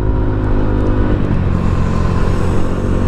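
A Yamaha NMAX V2 scooter fitted with an RS8 DC8 exhaust accelerates close by, its engine note loud and steady with a rough, throaty drone that rises slightly partway through.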